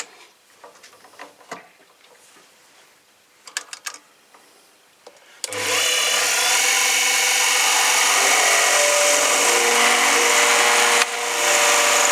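A small homemade lathe bursts into a loud, steady whirring drone as it runs for drilling, following quieter ticks and handling noises. It holds constant for several seconds, then dips briefly.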